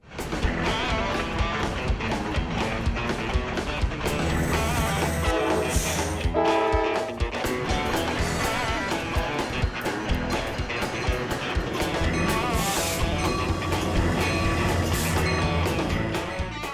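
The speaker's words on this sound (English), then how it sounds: "The drama of modern railroading is nowhere more apparent than in Chicago." Rumbling rail traffic in Chicago with clattering wheels and a rising, steady roar, joined by a horn blast, loud and sustained throughout.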